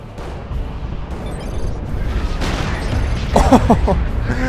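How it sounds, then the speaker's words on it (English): Heavy turret and D-Cannon trading shots on a Dawn of War 2: Retribution battlefield, a dense rumble of booming artillery fire with a few sharper reports near the end. "this heavy turret was returning a shot whenever the D-Cannon was shooting, and then the D-Cannon took a shot and it got killed"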